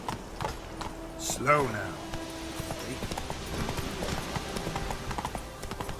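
Roach, a horse in The Witcher 3, clip-clops along in a quick regular rhythm of hoofbeats, with a brief whinny-like call early on and a voice speaking over the game sound.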